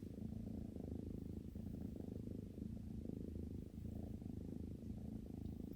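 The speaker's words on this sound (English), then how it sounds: "he will immediately start purring" A domestic cat purrs steadily and close up, a low continuous rumbling vibration with a gentle pulsing rhythm, alone without any voices.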